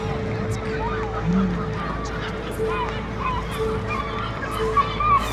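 Gulls call on an island in Lake Sevan, with several short cries scattered across a continuous low ambient rumble, moderately loud, and some faint voices in the background.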